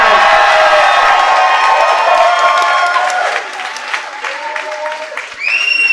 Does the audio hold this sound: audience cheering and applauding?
yes